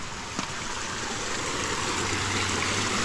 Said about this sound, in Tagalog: Nalakas ang tubig eh.